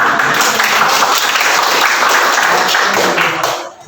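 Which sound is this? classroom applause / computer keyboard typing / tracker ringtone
classroom applause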